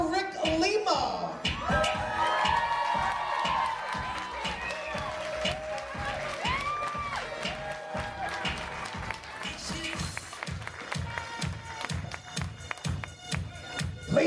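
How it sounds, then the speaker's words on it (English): Guests at a wedding reception at Alpine Country Club applaud as the bridal party enters. Scattered clapping builds into steady, rhythmic hand claps under a lively mix of music and an announcer's voice. "have a nice round of applause"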